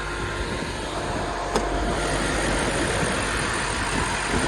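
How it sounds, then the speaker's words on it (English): A 2019 BMW M5 idling, a steady low engine hum held evenly throughout, moderately close with no talk. "This one is a 2019 BMW M5. Sounds beautiful."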